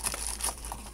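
Plastic crinkling close to the mic, a few crisp rustling bursts over a steady low hum, with no voices.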